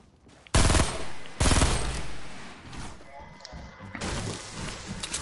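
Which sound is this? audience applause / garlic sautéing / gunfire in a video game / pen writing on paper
gunfire in a video game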